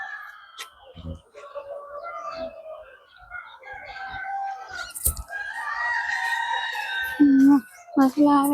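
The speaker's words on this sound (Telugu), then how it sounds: "పక్కనే ఇది ఉంది కోళ్ళ ఫారము. సౌండ్ అది దాందే వస్తుంది." Chickens and roosters at a poultry farm beside a busy grape fair, with crowing and clucking rising over a crowd's chatter and someone speaking nearby.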